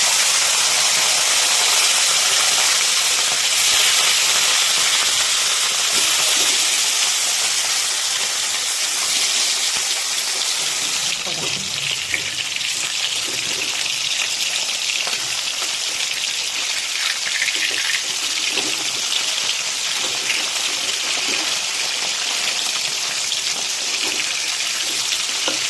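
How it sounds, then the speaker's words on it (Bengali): Rohu fish pieces rubbed with salt and turmeric, shallow-fried in mustard oil, producing a steady, loud hissing sizzle with occasional spatter pops and no talk. "মাছগুলো একদম জাস্ট দুটো পিঠ ভালো মতন লাল লাল করে ভাজা হয়ে গেল"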